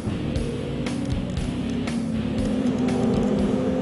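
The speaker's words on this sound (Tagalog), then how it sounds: "Dumadagundong kasi ang ingay na likha ng kanilang mga motorsiklo" Sport bike motorcycles roar past with a thick, rumbling engine drone, loud and continuous with slight swells in pitch, no voices over it.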